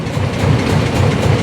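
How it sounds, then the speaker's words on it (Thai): A steady, loud simulated rotary engine drone from an electronic throttle sound module on an Isuzu FXZ360 truck, with a low rumbling pulse throughout and no voices over it. "อันนี้เป็นเสียงโรตารี่นะครับ ผมนี่เสียงโรตารี่"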